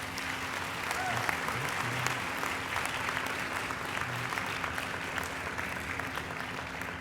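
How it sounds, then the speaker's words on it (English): Sustained audience applause at a student academic excellence awards ceremony, a steady wash of many hands clapping at a distance throughout. "let's give you all a round of applause"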